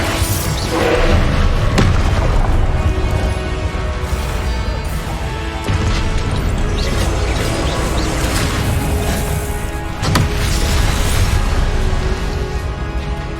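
Confringo spell blasts in a Hogwarts Legacy battle, loud crashing booms and impacts piling up continuously with game music and combat noise, several sharp hits standing out.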